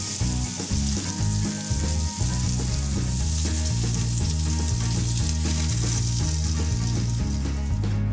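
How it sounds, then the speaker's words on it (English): Salisbury steak patties sautéing in butter give off a loud, continuous sizzle and spatter up close, with a low tonal hum running steadily underneath throughout. "saute the patties in this butter"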